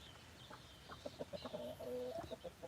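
A rooster clucks softly at a backyard chicken coop where chicks are hatching, several short clucks over a couple of seconds, faint and close.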